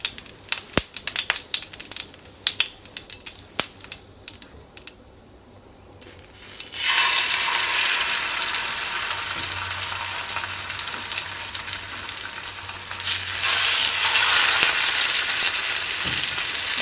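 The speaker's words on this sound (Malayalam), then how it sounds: "എണ്ണ നന്നായിട്ട് മൂത്തിട്ടുണ്ട്. ഞാൻ മീനിട്ട് കൊടുക്കാൻ പോവാണ്." Red snapper dropped into hot oil, first some scattered clicks and handling, then a loud, steady sizzle of frying that fades slightly before surging again.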